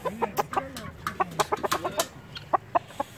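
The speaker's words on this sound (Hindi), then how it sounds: "ये खूबसूरत मुर्गा है" A Java rooster clucks in a quick, uneven series of short calls, close and fairly loud, with no talking.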